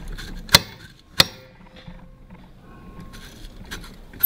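Throttle linkage on individual throttle bodies, 52 mm, fitted to a Honda B18C5 engine, is turned by hand against a stiff spring, giving two sharp mechanical clacks followed by quieter clicks and rattles, close up.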